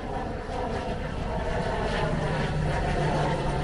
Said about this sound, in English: We got a airplane coming in overhead on approach.